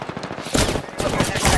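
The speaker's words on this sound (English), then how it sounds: "I'm taking shots. Firing." Rapid automatic gunfire in the Apex Legends battle royale game, a dense close burst of shots in quick rhythm, then a louder sustained stream of fire with dialogue voices mixed in.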